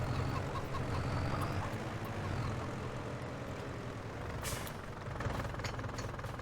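A tractor engine in a farming video game drones steadily with a low rumbling hum throughout, constant and fairly loud, with faint higher clicks near the end and no talking.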